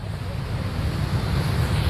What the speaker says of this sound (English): We've got 3 waterfalls in one here.